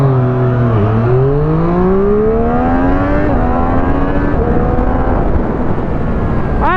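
A 2023 Triumph Street RS 765 motorcycle accelerates hard on a track, its engine note climbing loud and steady through several gears, heard close from the rider's position with constant wind rush.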